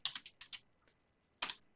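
Computer keyboard typing, a quick run of soft close key clicks followed by a pause and a final pair of keystrokes, quiet with no talking.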